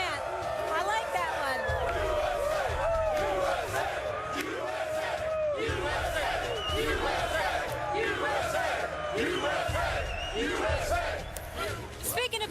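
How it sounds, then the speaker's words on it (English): A large crowd in a packed outdoor setting for a televised sports talk show chants and cheers loudly and continuously, rhythmic shouted voices rising and falling over a dense background of crowd noise. "I like that chant."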